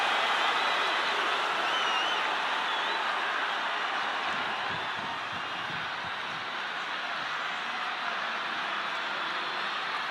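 An arena crowd at a WWE Royal Rumble match in a wrestling video game keeps up a continuous broad roar and cheer, steady and fairly loud throughout, with no distinct voices.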